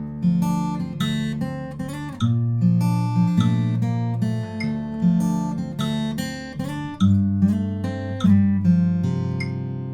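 Fingerpicked acoustic guitar playing the bridge of a song, with a bass note plucked on each beat under ringing chords in a steady, even rhythm, close and clear with no voice.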